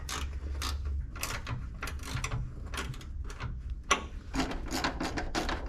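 Hand tool working a fastener on a 1986 Chevy C10 squarebody during a dual electric fan install: a steady run of close, bursty metallic clicks and ratcheting scrapes, evenly repeated over a low mechanical hum, with one sharper knock midway.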